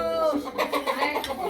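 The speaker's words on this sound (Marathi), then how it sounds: "कोंबड्या." Hens cluck close by in a household yard during a family meal gathering, with brief rising calls heard alongside people talking.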